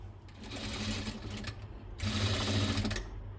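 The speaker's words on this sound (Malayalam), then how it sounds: "1/2 ഇഞ്ചിൽ സ്റ്റിച്ച് ചെയ്തെടുക്കുക." A sewing machine stitches a nightie seam in two steady runs of fast mechanical whirring and needle chatter, close and loud, with a brief slowdown between them and no talk.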